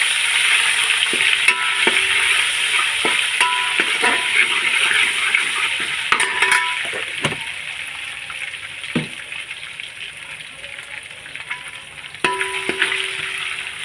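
Onions fry with whole garam masala and ginger garlic paste for jackfruit biryani, giving a steady loud sizzle with occasional stirring clicks and scrapes throughout, no voices.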